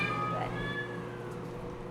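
A single cat at a city animal shelter lets out one drawn-out meow, close and clear against a quiet room hum.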